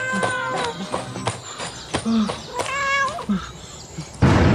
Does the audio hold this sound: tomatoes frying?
no